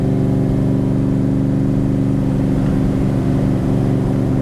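Backdraft Cobra roadster with independent four-wheel suspension drives over bumps in second gear, its engine a loud, steady low rumble heard close throughout, with slight wavering in the drone and no talking.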